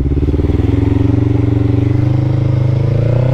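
A Kawasaki EX-500 motorcycle engine idling up close, a loud steady low throb with fast even pulses that rises slightly in pitch toward the end.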